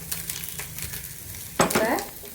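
Wheat carrot noodles with pepper sizzle in a hot pan, a faint frying hiss broken by one loud scraping stir of the spatula near the end.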